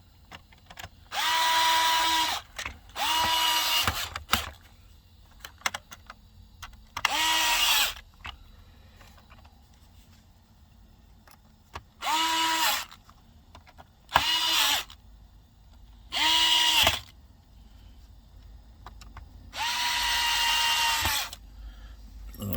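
A powered screwdriver drives screws back into the front bumper of an iRobot Roomba S9, about eight separate whirring bursts of a few seconds each, close and loud, with quiet pauses between.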